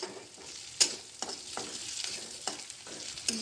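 Onions and cumin seeds frying in hot oil for a fish curry give a steady close sizzle, broken by scraping stirs and sharp clinks of a spoon against the pan, with no talking.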